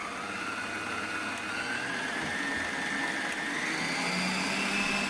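A Nurxiovo 3-in-1 stand mixer runs with its whisk attachment, a steady loud motor whir that holds throughout with a slight shift in pitch as it changes speed, no voices.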